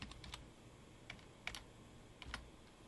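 Light taps on a computer keyboard come as a quick cluster followed by a few spaced single strokes, faint and close, with no voices.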